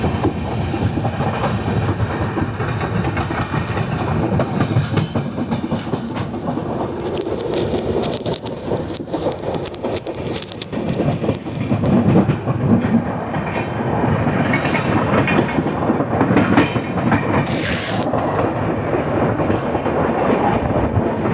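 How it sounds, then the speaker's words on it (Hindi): A train rolls along a line heading toward Sabarmati station, its wheels keeping up a steady rattling clatter for the whole stretch, loud and close with a slight surge partway through. "कोई तो ट्रेन साबरमती स्टेशन की तरफ जा रही है"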